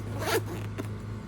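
A zipper is drawn open on the package holding a Spyderco Yojumbo knife, a close, loud rasping pull followed by a shorter second tug over a low steady hum.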